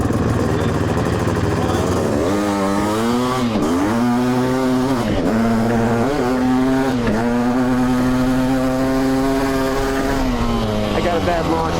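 A powerful electric dirtbike in a higher power mode accelerates hard, its loud motor whine climbing and dropping in repeated surges, close and continuous.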